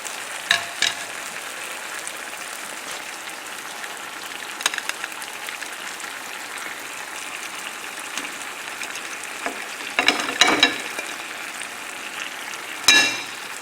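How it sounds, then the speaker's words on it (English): Dry white wine hits a pan of simmering cod and tomatoes, giving a soft steady sizzle with occasional louder bursts of bubbling and hiss, close by, without talk. "Now I'm going to add the dry white wine"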